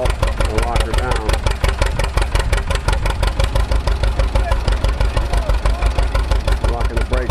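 An antique tractor engine runs a belt-driven baler, its steady rapid knocking beat loud and close and continuing unbroken throughout.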